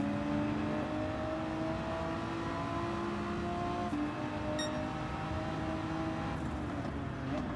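Race car engine in Gran Turismo 7 holds a steady, sustained drone with smooth tonal harmonics, a slight pitch dip midway and a brief high ticking burst, all loud and continuous with no talk.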